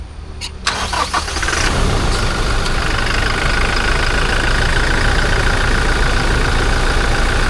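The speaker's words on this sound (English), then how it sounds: "Foot on the brake and clutch. Start, and she comes to life." A Toyota Innova Crysta diesel engine cranks briefly, catches and settles into a steady, close clattering idle that holds evenly to the end.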